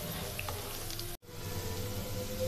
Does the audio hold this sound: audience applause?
no